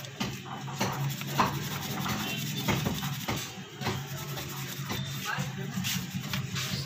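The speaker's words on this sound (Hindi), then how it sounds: "ब्रश लेंगे और इसी यहाँ से इसको साफ़ कर देंगे अच्छे से" A small brush scrubbing a display cable connector during a screen repair, with close, soft, repeated rubbing strokes over a quiet background.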